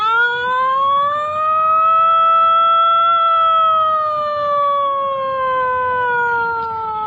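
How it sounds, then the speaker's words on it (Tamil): A fire engine siren wails in a long, steady rising and falling tone, loud and close, holding for about seven seconds with no one talking over it. "அடுத்து ஒரு தீயணைப்பு வாகனம் வருகிறது."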